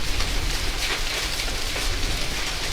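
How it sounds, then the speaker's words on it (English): Hail falling outside an open patio door: a steady, loud hiss of countless small pattering impacts with no letup throughout, and no voices. "I think it's hailing out there."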